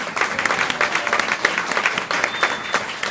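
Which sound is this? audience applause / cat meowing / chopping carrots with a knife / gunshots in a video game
audience applause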